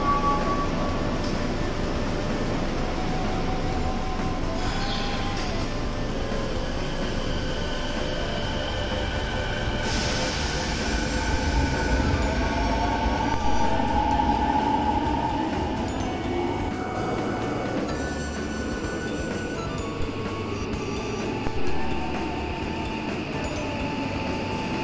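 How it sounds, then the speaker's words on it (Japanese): A subway train rumbles steadily past with a long whooshing roar, squealing wheels and a rising-falling hum, loud and continuous throughout. "日本の電車を見送って今回お目当ての列車がやってきました。"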